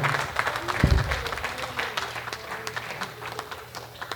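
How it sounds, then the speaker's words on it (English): A comedy show audience claps for the host after a stand-up set. The applause is moderate and loosely scattered, peaking early and then thinning into sparse claps over a low room hum. "Clap it up for your host"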